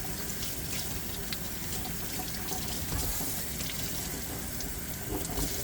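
Fresh cilantro being rinsed for Spanish sofrito under a running kitchen tap, a steady broadband rush of water that continues evenly for several seconds with no talking.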